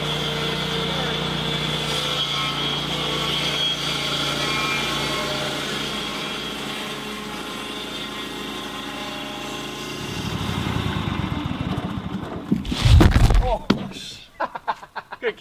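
A sawmill slabber with a big chainsaw mills timber, buzzing steadily and close, then changes pitch toward the end with heavier knocks and clatter as the cut finishes.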